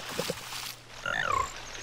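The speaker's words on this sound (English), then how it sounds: "Some frogs are looking at you from the water. They're actually musical. The world famous froggy quartet." Frogs croaking in a Zelda video game, a few short low croaks early on, then a brighter warbling musical croak run in the middle, fairly quiet over a steady low hum.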